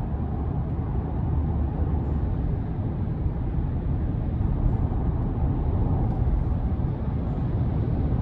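Steady low engine rumble and road noise from a 2024 GMC Sierra 1500 Denali Ultimate pickup with a 6.2-liter V8, heard from inside the cab as it accelerates, continuous and even without speech.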